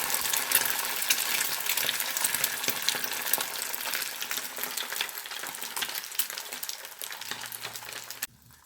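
An egg fries in a little oil at the bottom of a hot pot, giving a loud, steady, crackling sizzle that runs close and uninterrupted, then cuts off near the end.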